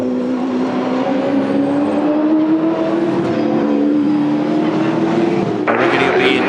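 The Sprint Gas Racing Commodore race car, carrying damage around the front, gives a steady engine drone that climbs slowly in pitch and holds loud and close throughout, with a voice talking over it.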